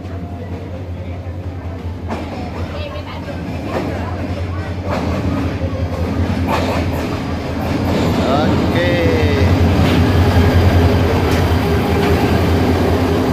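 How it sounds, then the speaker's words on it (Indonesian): A train pulls in along the Pasir Mas to Dabong line in Malaysia, its steady rumble and rolling wheel noise building gradually as it nears the platform, with brief squeals and clatter over low station ambience and faint voices. "Okay, kereta api nak masuk landasan dah."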